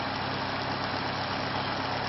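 An electric motor runs steadily under load, a dense continuous hum and whir at constant level, close and without talk.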